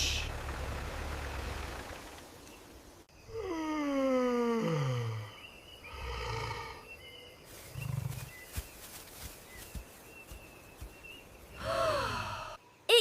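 A large wild animal lets out a long, drawn-out yawn with a descending groaning roar, followed by softer breathy sighs and a shorter second yawn near the end, up close in a quiet setting.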